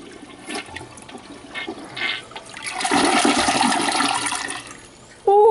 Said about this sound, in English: Oh, what a nice sound after 7 years of using an RV toilet.